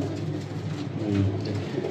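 A female pigeon gives a soft, low cooing, a short throaty burst close up against a quiet background hum.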